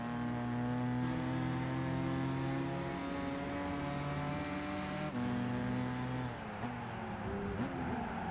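A race truck engine in the Gran Turismo 5 racing game drones steadily at high revs, shifting pitch through gear changes and dipping near the end, with no talk over it.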